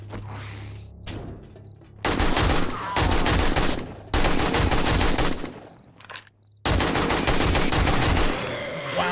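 Rapid automatic gunfire in the survival zombie game 7 Days to Die, several loud sustained bursts separated by short gaps, with insect-like chirping in the quieter moments.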